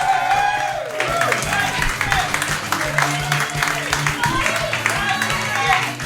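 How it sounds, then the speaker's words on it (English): Audience applause and cheering in a small pub comedy room at a stand-up night, steady clapping mixed with whoops and crowd noise, while a host's voice talks over it throughout. "Give him a round of applause!"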